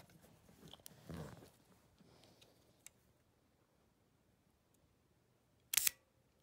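Kodak Medalist camera shutter firing once, a sharp close click at a slow speed, with a few fainter mechanical ticks before it in an otherwise quiet room.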